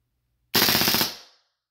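An M9 pistol fires a sharp, loud burst of rapid shots that ends abruptly and rings out briefly into silence, heard alone with no voices.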